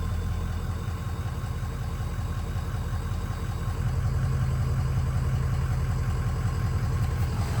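A Ford 6.0 Powerstroke diesel idles just after an oil change, a steady, close, low rumble that thickens slightly about halfway through and runs without pause.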